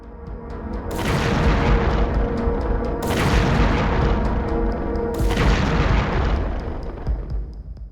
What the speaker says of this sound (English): geolocated footage shows a Ukrainian tank firing at close range into their positions